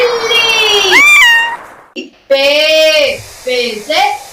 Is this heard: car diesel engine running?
no